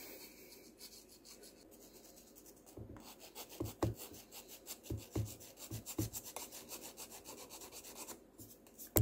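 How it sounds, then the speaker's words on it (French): A small file scrapes delicately at excess dried material on the sight of an HDR 50 air gun, a series of short rasping strokes in a loose rhythm after a quiet start. "avec une petite lime, délicatement on va essayer d'enlever"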